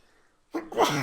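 A single close sneeze bursts out abruptly after a faint, quiet stretch, followed by a breathy, noisy tail.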